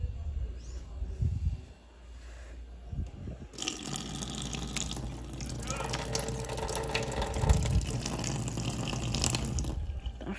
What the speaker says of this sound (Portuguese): Fraco a água na torneira.